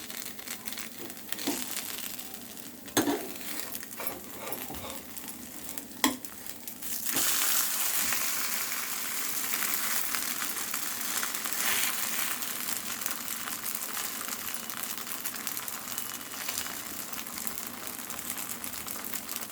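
Oats dosa cooking on a pan over a low flame, a soft steady sizzle and crackle that swells louder midway after a few clinks and taps of a utensil.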